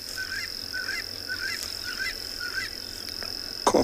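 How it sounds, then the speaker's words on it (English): A Coqui francolin calls in the South African bush on a cold morning, repeating a clear two-note phrase about five times at a steady pace. A constant high insect drone runs underneath, and a soft rustle comes near the end. "Corky francolin."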